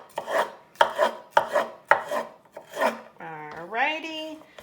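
A knife chops vegetables for a sausage, peppers and grains skillet in a kitchen: five or six crisp, evenly spaced strokes, close and clear, followed by a brief tonal, voice-like sound.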